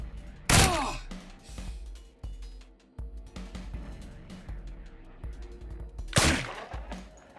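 Gunfire in the turn-based zombie survival game Dead State: two loud, sharp shots, one near the start and one near the end, with scattered softer impacts and game noise between them and no talk.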